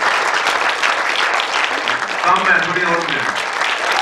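A crowd at a gathering of blind people applauds an honoured officer, steady dense clapping throughout with a voice briefly speaking over it.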